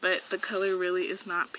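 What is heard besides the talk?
None of the usual background noises is heard.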